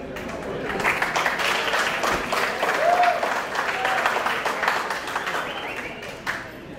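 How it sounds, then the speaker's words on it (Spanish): An audience applauds steadily at the close of a conference talk, the clapping loud and sustained for the whole stretch with a brief murmur of crowd noise beneath it. "los aplausos son por ya dar por finalizado"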